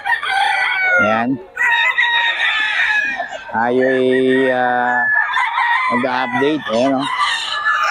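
Roosters crow loudly and hens cluck at the crowded Bocaue chicken market, the long harmonic crows rising and falling in repeated bursts close by, with someone talking over the birds.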